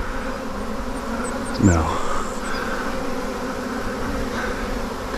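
A honeybee swarm buzzes steadily up close in Bellingham, Washington, a dense continuous hum with one louder bee darting past the microphone; a person says a single word over it.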